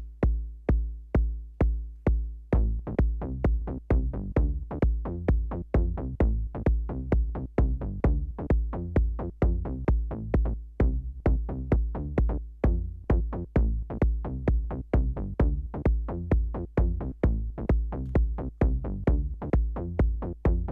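An A1 kick patch on a Korg Volca Drum: a few deep, booming kicks alone, then a busy synth bass line of quick plucked notes layered over steady kick hits, loud and continuous with no talking.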